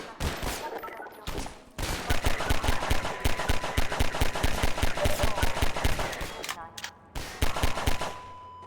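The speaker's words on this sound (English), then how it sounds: "The turret firing at the breakable crates behind teaches players not to take the threat head-on" Mounted turret gun in Half-Life 2 firing at breakable wooden crates: loud, rapid bursts of automatic gunfire with sharp repeated cracks, pausing briefly between runs.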